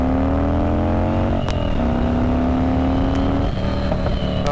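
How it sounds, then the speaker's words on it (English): A bone stock 88 cubic inch Harley-Davidson Dyna FXDX motorcycle pulls hard from first gear, its loud, steady engine note climbing in pitch and dropping briefly at each gear change. "This bike is a bone stock 88 cubic inch, and I just want to show you guys how slow this bike is."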